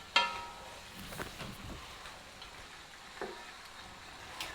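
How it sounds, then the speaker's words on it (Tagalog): Beef spare ribs frying in a pan until browned for caldereta, a steady soft sizzle with a few sharper pops and stir clatters, no talking. "I'm going to cook this till it gets brown."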